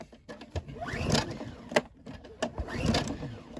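A Honda 2200 watt generator is pull-started in cold Alaskan weather, with a couple of rough, rising cranking bursts from the recoil starter and mechanical clatter close by.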